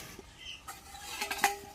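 A lid goes onto a cooking pot of village-style chicken curry: faint rustling and handling, then a single close metallic clank with a short ringing tail near the end.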